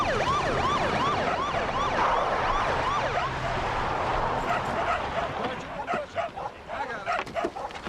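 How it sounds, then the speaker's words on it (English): Several dogs bark over and over, yipping loudly and nearby while a siren wails over them, and the barking thins out near the end. "Someone take care of those dogs."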